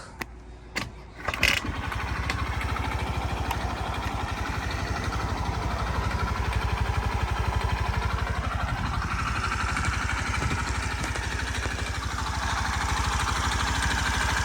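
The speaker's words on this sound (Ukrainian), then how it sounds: "Робота двигунчика така незвичайна у цих свіжих адресів." A 2018 Suzuki Address V125 scooter starts after a couple of brief cranking bursts, then settles into a steady, close, even idle that runs on to the end.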